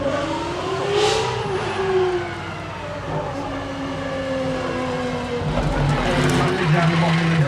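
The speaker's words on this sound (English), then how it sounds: "through the finish line goes the SP2 Monza, flashing through those hay bales" A Ferrari SP2 Monza race car drives past the finish line between hay bales at the Goodwood Festival of Speed, its engine note rising and falling as it passes, with a commentator talking over it.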